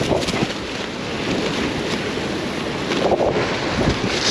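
Strong wind roars across the microphone while fishing on open water, a continuous loud rushing buffet with gusty swells and no voices.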